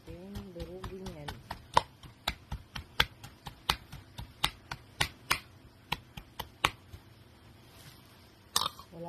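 Blanched herbs are crushed by hand without a garlic pounder, making a run of sharp, evenly spaced thuds and knocks, close and distinct, with a brief voice-like murmur at the start.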